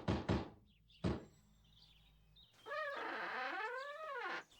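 Several sharp knocks on a door in a film scene, three distinct raps near the start, followed by a pitched gliding animal-like voice or tone.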